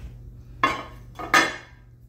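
Floral-pattern ceramic plates and dishes set out for a spring buffet knock together twice, two sharp close clinks with short ringing tails over a low hum, no talk.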